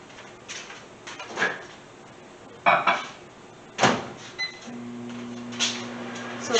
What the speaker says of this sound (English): So I'm going to put this in the microwave for 30 seconds.